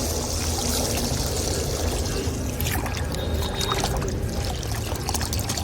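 Water poured into a plant soil mix for a rooftop garden, a steady broadband splashing and trickling that runs continuously and fairly loud for the whole stretch, with no talking.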